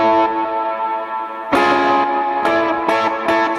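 Electric guitar played with heavy delay and reverb, sustained chords ringing out and then several struck strums whose echoes trail and overlap, loud and alone.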